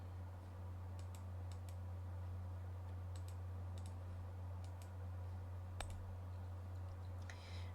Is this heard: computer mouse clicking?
yes